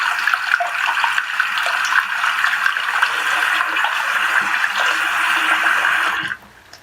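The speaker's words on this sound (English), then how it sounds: "I'm going to run some water in this" Tap water runs steadily into a sink while makeup brushes are washed with soap, a continuous close hiss and splash lasting about six seconds before cutting off abruptly.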